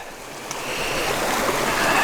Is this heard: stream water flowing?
yes